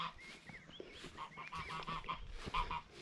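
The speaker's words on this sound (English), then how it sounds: "The geese is one of the beautiful birds around." Geese honking at a village dam, a quick series of nasal honks close by, some overlapping, in short bursts over light background noise.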